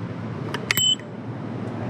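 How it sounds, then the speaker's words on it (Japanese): A bicycle bell mounted on the left handlebar of a Toronto Bike Share bike rings twice in quick succession, a short bright metallic ding over faint outdoor street noise. "左ハンドルにベルがあります。"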